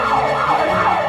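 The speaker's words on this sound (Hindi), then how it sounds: "क्या वो सायरन है?" A loud, close wailing siren sweeps up and down in smooth repeated cycles for about a second, filling the scene with no speech over it.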